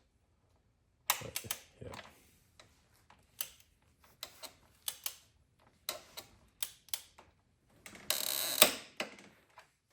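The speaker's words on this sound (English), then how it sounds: "this 15 millimeter bolt down here needs to be torqued to 110 Newton meters" A torque wrench tightening a 15 mm bolt on the torque strut mount of a 2017 Volvo XC90: quiet, irregular ratcheting ticks, then a louder burst of rapid clicking near the end, close up in a quiet space.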